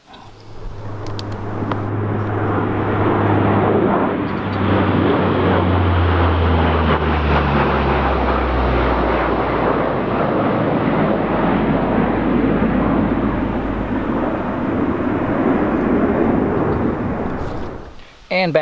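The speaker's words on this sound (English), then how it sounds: "I don't know what's up with the military aircraft today." Military aircraft pass overhead at a colonial cellar site, a deep swelling roar building within seconds and holding loud and steady for over a dozen seconds before cutting off.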